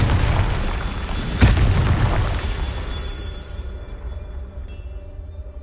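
A Confringo fire spell explodes in the Hogwarts Legacy video game: a loud, rumbling blast with a sharp burst partway through, then a roar that slowly fades.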